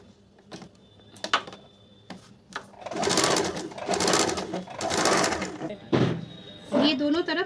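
A sewing machine runs a chap-stitch seam along the strips of a princess-cut kurti in several uneven bursts, with someone speaking intermittently between and over the stitching.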